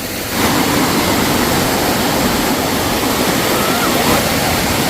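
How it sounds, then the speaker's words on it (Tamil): A hidden waterfall on the Meesapulimala trek roars with a loud, dense, unbroken rush of falling water, heard close up and filling the whole scene. "இது வந்து ஒரு ஹைடன் ஃபால்ஸு."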